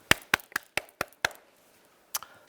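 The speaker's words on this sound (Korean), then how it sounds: "함께 뜨거운 박수 부탁드리겠습니다." Brief scattered clapping from a small audience at an indoor youth voter-education lecture: about six sharp, separate claps in quick succession, then a pause and one final clap, close and dry.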